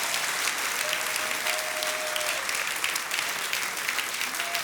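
A church congregation applauds during a worship service, a full, sustained patter of many hands filling the room evenly, with a brief whistle-like tone sounding faintly through it.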